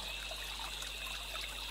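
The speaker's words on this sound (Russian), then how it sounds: "журчащий ручей" A babbling stream trickles steadily and softly throughout, a continuous gentle water sound in a calm meditation setting with no voices.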